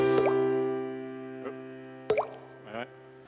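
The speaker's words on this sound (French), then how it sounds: "Regarde, le piano, il coule!" Water drips from a leaking piano in a comedy recital: a few distinct drip and plop sounds, close and fairly clear, heard over a sustained piano-like tonal hum.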